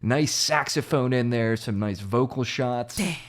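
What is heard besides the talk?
No everyday noises stand out.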